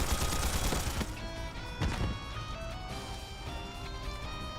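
An old antique gun fires in the video game Trails Beyond the Horizon, giving loud, dense bursts of gunfire with strong blasts near the start and around the two-second mark. Game music or effects ring on afterward with no talk.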